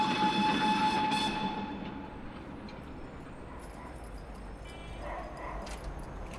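Tren a las Nubes rumbling along at 4,300 metres in the Argentine mountains, a loud rolling rail roar with squealing tones that fades to a steady drone, while a dog barks faintly.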